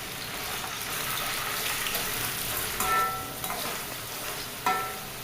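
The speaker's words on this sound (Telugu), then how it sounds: "నూనె వీటెక్కాక పన్నీర్ ముక్కలు అన్నీ వేసేసుకొని తర్వాత ఐదు నిమిషాలు ఫ్రై చేసుకుందాం" Paneer pieces fry in hot oil in a pan for Khammam-style paneer fried rice, giving a steady close sizzle with a couple of brief clinks and scrapes as they are stirred.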